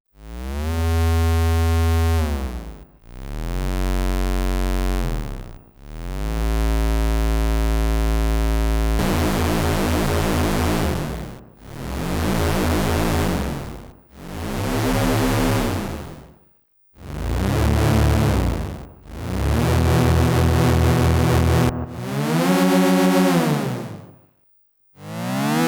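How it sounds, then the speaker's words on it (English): A Korg Volca Keys analog synthesizer plays a series of sustained, buzzy tones with sweeping filter changes, each note swelling and cutting off, separated by brief silences. "every sound that comes out of the Volca Keys sounds great"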